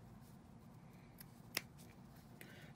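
Scissors make a brief trim in fabric during sewing: a few quiet, crisp snips with one sharper cut in the middle, heard close and alone against a soft background hum.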